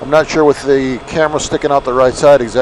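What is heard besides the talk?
No everyday noise stands out behind the speech.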